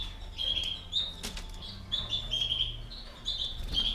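Canaries flutter and chirp inside a roomy cage, with short wing-flapping bursts and repeated bright tweets at moderate distance over a faint background hum.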